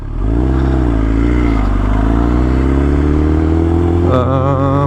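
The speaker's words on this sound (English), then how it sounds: "Guy riding a bike." A motorbike passing on a town street, a loud close engine drone that climbs steadily in pitch, then drops back as the rider shifts near the end.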